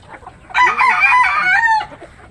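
A native rooster lets out a single loud, close crow lasting about a second, with faint farmyard clucking around it and no talk.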